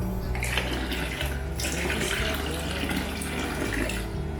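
Water pours steadily into a quarantine container holding newly arrived discus fish, a continuous splashing rush that stays loud and close from start to finish with no talk over it.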